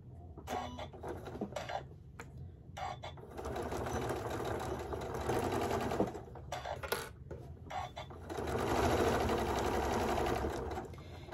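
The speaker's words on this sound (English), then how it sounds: "I am going to just stitch around the whole hot pad." A sewing machine fitted with a walking foot stitches around a quilted hot pad, its steady rapid whirring running in bursts with short stops between runs, close and clear.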